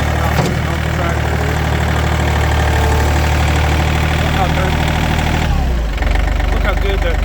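A farm tractor engine running close by, a steady, loud, low idling rumble with a constant mechanical drone. The pitch shifts briefly toward the end and then settles again.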